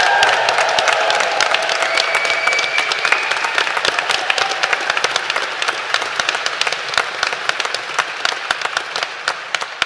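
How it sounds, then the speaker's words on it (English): A graduation ceremony crowd in Paisley cheers and applauds loudly and steadily, dense clapping mixed with whoops and shouts from a large hall audience, sustained throughout without pause. "Please show them your appreciation with a massive cheer"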